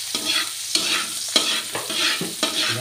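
Garlic fries in a pan with a steady sizzle broken by repeated scraping stirs at roughly half-second intervals, close and fairly loud, with no voices.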